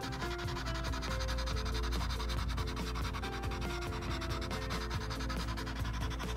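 Charcoal rubbed on paper while shading makes a continuous, close, dry scratching and scrubbing sound with a quick back-and-forth rhythm.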